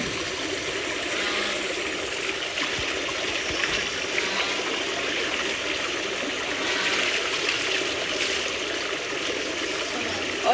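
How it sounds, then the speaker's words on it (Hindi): Clothes washed by hand in clean plain water after soaking in detergent powder, a steady splashing and trickling of water running continuously, fairly close. "सादा साफ पानी में धो रही हूँ मैं।"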